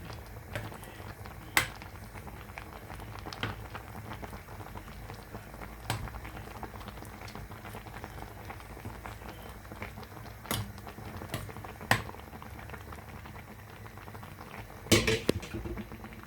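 A pot of Thai-style curry with meat and broth simmers on a stove in a quiet kitchen, giving a soft, continuous bubbling punctuated by occasional sharp clinks of utensils against the pot.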